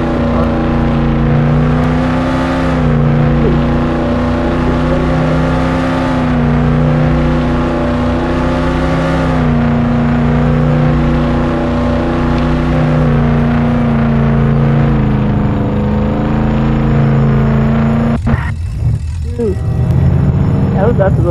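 A car drives in the Roblox game Jailbreak, its engine drone steady and continuous for a long stretch, then broken up near the end by other noises as voices talk over it.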